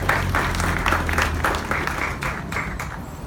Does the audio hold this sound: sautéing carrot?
no